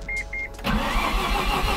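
A Mazda RX-7 FD rotary sports car gives two short chime beeps, then its engine rises sharply to a loud, close, rough mid-pitched revving as it pulls away.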